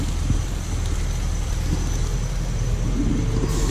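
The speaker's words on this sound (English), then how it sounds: "concrete factory over here and they're making all kinds of noise." Steady industrial rumble and low machinery drone from a nearby concrete factory carries through an outdoor cooking spot, continuous and moderately loud with no clear speech.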